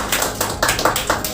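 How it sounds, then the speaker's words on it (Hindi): An audience at a live quiz competition applauds the winner with a short burst of claps in a quick, steady rhythm, fairly close and moderately loud. "तो ये एक बार ताली हो जाए फिर से इनके लिए"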